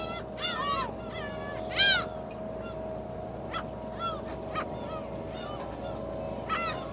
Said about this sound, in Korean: 갈매기가 어디 강아지 짖듯이 짖고 있어.